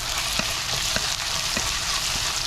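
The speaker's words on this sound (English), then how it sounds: "Now I am going to add the chili paste, ginger paste, garlic paste, and saute it nicely." Chili, ginger and garlic pastes sauté with translucent onions for Kashmiri-style mutton keema, a steady dense sizzle broken by a few light, regular spatula taps.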